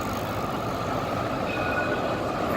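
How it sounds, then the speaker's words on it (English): A No. 1 route tram rumbles up as it arrives, a dense, continuous rolling drone with faint wheel squeal laid over it and no speech. "here comes the tram and here comes a bike"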